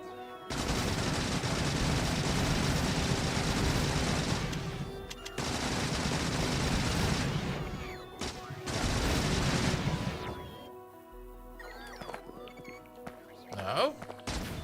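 Long sustained bursts of rapid automatic gunfire shooting at bots in the Space Exploration video game, broken by short pauses, then sparser clanks and impacts. The firing is dense and fairly loud, and a voice talks over parts of it.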